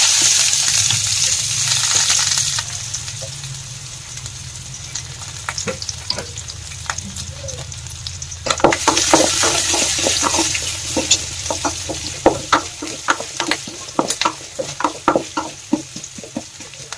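Chopped onion hitting hot oil already seasoned with cumin and mustard seeds for poha, giving a loud steady sizzle with crackles and stirring clatter that swell after a few seconds, with no voices.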